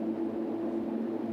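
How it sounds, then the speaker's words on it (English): ICP40 dry cooler running under hot-season load at around 60 degrees, giving a steady, loud mechanical hum with a strong low tonal drone and broadband fan noise, unchanging throughout with no talk. "that's the noise of the operation during the hot season."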